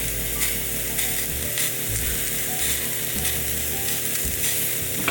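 Steak seasoned with sea salt sizzles in a pan, a loud, continuous crackling hiss with occasional low clunks, close and steady throughout with no voices.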